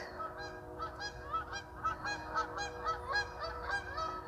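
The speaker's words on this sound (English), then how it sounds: "There's geese." Geese by a river honk repeatedly in a steady, overlapping chorus, fairly close and continuous over a soft outdoor background.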